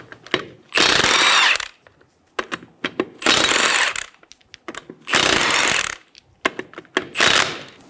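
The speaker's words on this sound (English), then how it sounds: "Using a 19mm socket, remove the 4 lug nuts." Four loud bursts of a power impact tool whirring with a 19mm socket removing lug nuts from a Ford Focus wheel, each about a second, separated by short pauses with clinks and rattles of metal.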